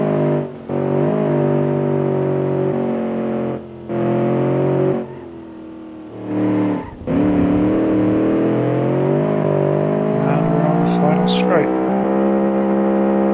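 A race car engine in the BeamNG video game revs hard and continuously, with pitch climbing and dropping through several gear changes and brief lifts, and a voice speaks briefly over it.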